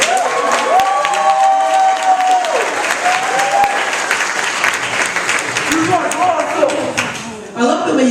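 A high school talent showcase audience applauds and cheers for award winners, dense sustained clapping with whoops and shouts, loud and close, while a voice speaks over the crowd.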